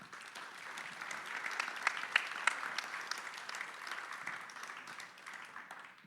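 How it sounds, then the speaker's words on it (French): Steady audience applause in a hall at a French hydroelectric industry conference, moderately distant and even for about six seconds, with a few sharper claps standing out and no voices over it. "vous pouvez déjà les applaudir, hein, s'il vous plaît"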